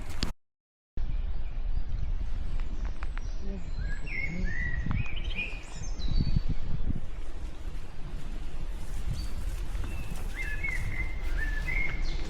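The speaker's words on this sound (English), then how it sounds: "The old blackbird singing away" A blackbird sings in open countryside with repeated fluting, warbling phrases at a moderate distance over a steady rush of wind noise.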